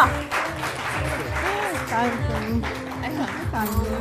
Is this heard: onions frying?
no